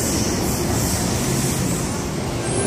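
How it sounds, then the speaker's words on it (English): A Sydney suburban train passes close by at the Forest Road bridge near Hurstville, a loud, steady rumble and roar of wheels on rail with a faint high squeal, continuous throughout. "this is the last train for this viewing point"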